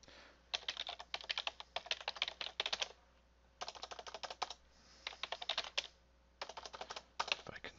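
Typing on a computer keyboard, close and fairly soft, in quick bursts of rapid keystrokes separated by short pauses, with no talk over it.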